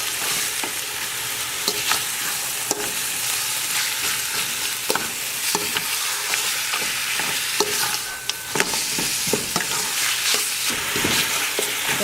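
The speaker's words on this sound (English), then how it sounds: "okay, gonna mix it up." Khmer ribs curry with sugar and salt is mixed in a pot, giving a steady, dense sizzle with repeated scraping and stirring knocks throughout and no talking.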